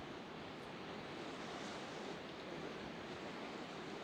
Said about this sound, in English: I can enjoy that swishing sound of the river